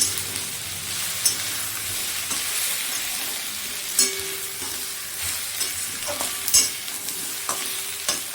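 Spiced potato curry with tomato being stirred in a pan, a soft steady sizzle broken by scattered scrapes and taps of the spoon against the metal, close and moderately loud, with no talking.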